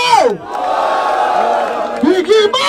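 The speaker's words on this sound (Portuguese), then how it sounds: "Barulho para cima de Big Mike!" Crowd at a freestyle rap battle in Barueri roars and shouts in a loud, sustained burst of cheering and yelling, with voices rising and falling throughout.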